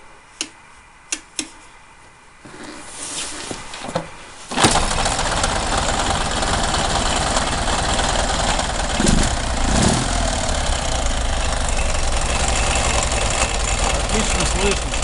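Ural M67 motorcycle engine starting up after a few clicks, then running steadily with a continuous rough mechanical clatter consistent with piston knock, close and loud throughout.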